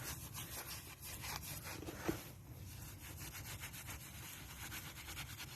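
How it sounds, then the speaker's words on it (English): Wet steel wool scrubbed by hand over a part of a Mk3 car, giving a steady close rasping rub in quick back-and-forth and circular strokes, with one small knock partway through. "take your steel wool, get it a little wet, then you just take it and you just scrub this part."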